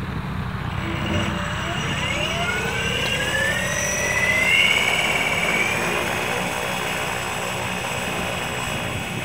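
The whining electric motor of the Elektra One aircraft hums steadily, its pitch gliding upward as it revs, swelling briefly louder midway before settling.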